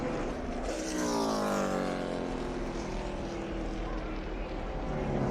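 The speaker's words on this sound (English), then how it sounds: "That car at full speed." A NASCAR stock car engine roars at full speed during a 2018 race crash, a loud sustained howl whose pitch sweeps downward as the car passes close by.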